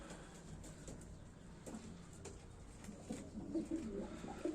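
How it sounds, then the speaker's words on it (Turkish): Pigeons coo softly inside a coop, low murmuring calls repeating over steady background noise, with a few faint wing or scratch sounds and the cooing swelling slightly near the end. "Şimdi şöyle bir kuşları bir gösterelim."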